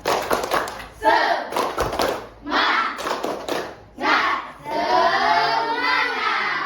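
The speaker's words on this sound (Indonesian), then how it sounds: "Kita mulai dengan tepuk semangat." A classroom group performs a rhythmic spirit-clap routine in sharp bursts of patterned claps separated by brief pauses, with students chanting and shouting along, ending in a longer cheering stretch.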